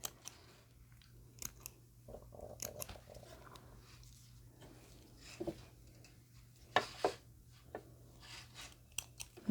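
Scissors snipping sewing threads on doll tights made from women's hosiery, a scattering of small close crisp cuts and clicks at irregular intervals over a faint steady hum.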